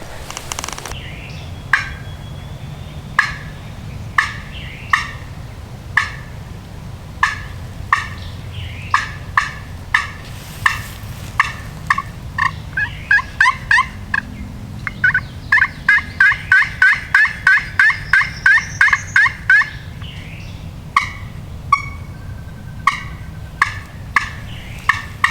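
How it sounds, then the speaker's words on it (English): A wild turkey gobbles repeatedly on public land in Kentucky. The calls are sharp and rattling, start spaced out, then come in quick bursts and a rapid series of calls, sounding fairly near in a quiet outdoor setting. "we're gonna get up and try to coax one to gobble"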